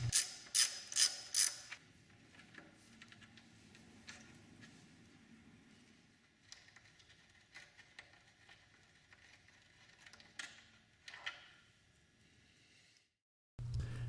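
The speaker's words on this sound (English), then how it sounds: "Next, remove the 2 5mm Allen bolts that are holding the fork cover in place." Faint metallic ratcheting clicks come from 5mm Allen bolts being loosened on the fork cover of a Goldwing 1800 motorcycle: a quick burst of sharp clicks at the start, then quieter scattered tool sounds, with no talking.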